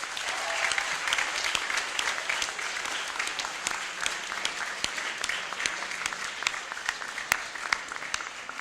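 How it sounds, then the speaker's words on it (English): A hall audience at the final of an international schools debate tournament gives a steady, even round of applause for the tournament helpers. The dense clapping holds at a moderate level for the whole stretch. "a big round of applause for them"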